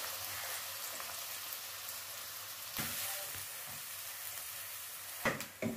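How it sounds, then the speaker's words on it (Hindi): Two medium onions, roughly chopped, fry lightly in hot oil in a pan, giving a soft, even sizzle throughout with a couple of sharp utensil clinks near the middle and the end. "प्याज को हमने हल्का सा सोते करना है।"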